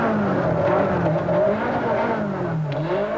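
Nissan Sentra rally car with blown front shock absorbers driving hard on a bumpy stage of the 1992 Swartland Rally, its engine droning and wavering steadily in pitch as it revs up and down, loud and close throughout, with no talk.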